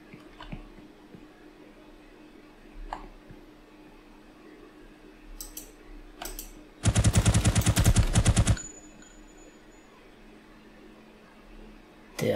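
Enemies in an Unreal Engine 5 game demo open fire in one loud, rapid machine-gun burst lasting under two seconds, standing out sharply against a quiet, low-level background with a few faint clicks.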